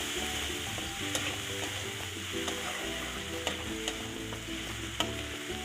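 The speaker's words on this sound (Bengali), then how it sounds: "পেঁয়াজের একটু ভাজা ভাজা করে নিচ্ছি" Onion paste fries in oil with garlic and cardamom for a Bengali doi katla, a steady close sizzle broken by sharp utensil scrapes and taps as it is stirred.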